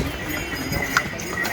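Horses come along a mountain path toward Yamunotri, with soft clip-clop hoofbeats under outdoor ambience and a faint voice in the background.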